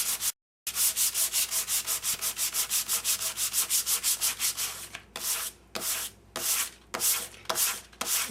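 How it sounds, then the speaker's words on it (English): Small Tim Holtz sanding block rubbed briskly over inked cardstock, a fast rhythmic scratching of even back-and-forth strokes that later breaks into shorter bursts with pauses. "the Tim Holtz little sanding block and sanding off the top layer"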